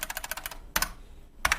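Typing on a Unicomp Ultra Classic 103-key buckling spring keyboard: a rapid burst of loud, sharp clacking keystrokes, then two isolated heavy key presses after short pauses, close to the microphone.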